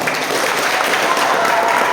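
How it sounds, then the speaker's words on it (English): A worship-service congregation claps together, brief dense applause from a crowd heard close and loud, with voices mixed underneath. "Let us all clap our hands."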